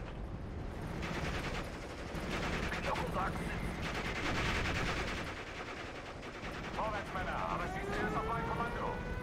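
MG34 machine gun fire in the World War II strategy game Steel Division: Normandy 44 at Caumont l'Éventé, distant rattling bursts mixed into a dense battle din, with a voice talking over it.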